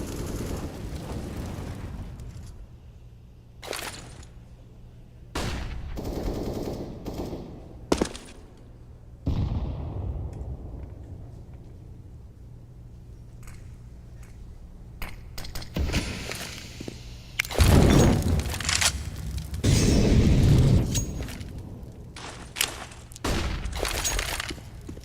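Grenade blasts and gunfire ring out in a professional CS:GO match between NaVi and OG at the BLAST Spring Final 2022: scattered sharp bursts early on, then a loud, dense cluster of explosions and shots near the end.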